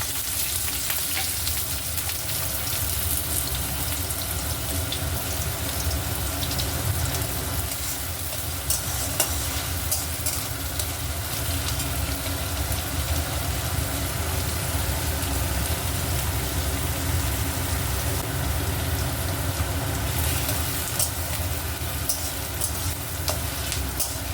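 Chopped onions fry in hot oil for an Indian dal tadka, giving a steady, loud, close sizzle that crackles without letup.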